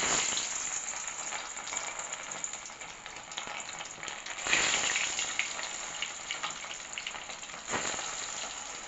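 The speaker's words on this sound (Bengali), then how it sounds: "মাছ তো ছাড়লাম, মাছ ভাজা আছে।" Fish fries in oil in a wok, giving a dense, continuous crackling sizzle that stays steady and close for the whole stretch, with brief louder swells. No talking is heard.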